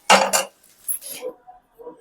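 A spoon scrapes and clinks against a metal pot in a few short bursts as cooled rice is stirred and mixed with a spice tempering for pulihora, close and fairly loud.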